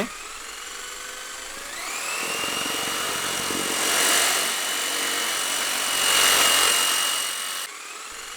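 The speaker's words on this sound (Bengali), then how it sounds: "আর অসাধারণ একটি ড্রোন, দেখতে পারতেছেন কত স্টেবল ফ্লাই হচ্ছে।" An F189 Pro camera drone hovers steadily nearby, its propellers giving a high, even whine that swells twice as it moves, then cuts off abruptly near the end.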